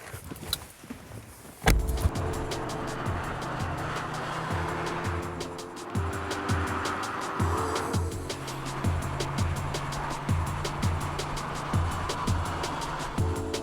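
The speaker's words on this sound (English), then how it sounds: "It's the Mercedes SLK, but it's the entry-level 200 compressor. And yes, all right, we'll drive it." An entry-level Mercedes SLK 200 Kompressor roadster heard from inside while driving, a sudden engine start giving way to a steady engine drone with rhythmic ticking and shifts in pitch, close and continuous with no talk.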